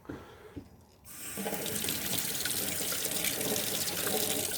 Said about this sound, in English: so now we'll rinse off the stone a little bit.